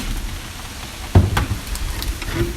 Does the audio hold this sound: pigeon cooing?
no